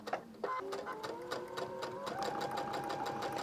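Sewing machine stitching triangle pieces of a Barber Shop Quartet quilt block, a steady close whirring run of rapid needle strokes with a rising, sustained motor tone and brief pauses.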